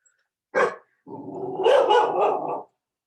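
A dog gives one short bark, then a longer whining, growling vocalisation, close and clear with no talk over it.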